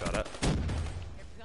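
Gunfire in Black Ops 3, a short burst of sharp shots close and loud at the start, fading into a rattling decay, with a voice briefly under it.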